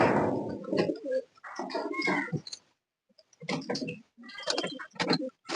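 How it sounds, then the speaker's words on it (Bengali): Domestic pigeons cooing as they are let out and fly off, with soft throaty coos and flutters in short clusters, close by and fairly quiet, separated by brief pauses. "পায়রাগুলো সব চলে যাচ্ছে উড়ে।"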